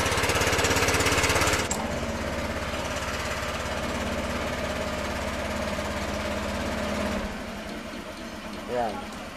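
A Honda Click 125/150i scooter engine idles loudly in steady, rapid low pulses, then drops to a quieter, smoother idle near the end with a brief rise, as if the idle screw were being adjusted.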